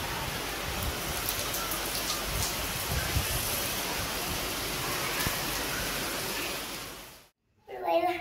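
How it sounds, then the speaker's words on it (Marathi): A loud, dense wash of heavy monsoon rain pours continuously outdoors during a festival day, then cuts off abruptly before a voice speaks. "एवढा वाढलाय पाऊस."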